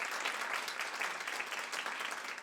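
An audience at a university open mic poetry night applauds after a reading, a continuous crowd of clapping hands that sounds somewhat distant and moderate in level, steady throughout.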